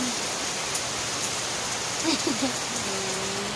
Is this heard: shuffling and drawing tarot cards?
no